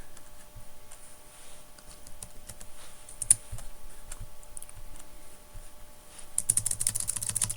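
Someone types an SSH command on a computer keyboard: a steady run of soft, close keystrokes, ending in a quicker, louder burst of clicks.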